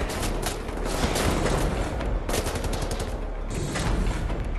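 Enemy gunfire in Wolfenstein, a loud, dense run of rapid automatic shots over a heavy low rumble, with brief bursts and short gaps breaking up the steady barrage.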